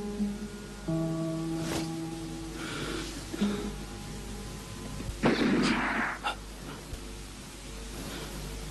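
A few sharp bursts like distant gunfire break out against a humming background, with a heavier blast a little past the middle.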